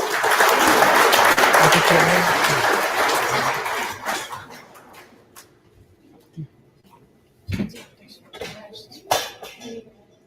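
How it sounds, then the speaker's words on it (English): Loud crowd applause at a comedy night fills the first few seconds, then fades out, leaving scattered claps, knocks and light handling noises. "A big round of applause for them."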